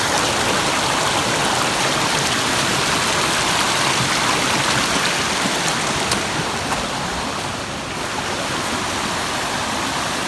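Mountain creek water rushes steadily over rocks along a trail in the Great Smoky Mountains, a loud, continuous broadband wash close by with no talking.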